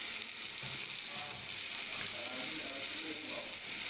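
Onion, green chili and oil sizzling steadily in a pan as chili powder goes in for a Bengali fish and potato dish, a constant close frying hiss with faint stirring.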